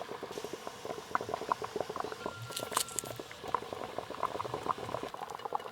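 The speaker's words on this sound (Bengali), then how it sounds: "ভেতরে জল কুপ কুপ কুপ কুপ করে ফুটছে," Water bubbles and pops steadily inside a covered pot of hilsa fish curry, a quiet close burbling of irregular blips with no talk.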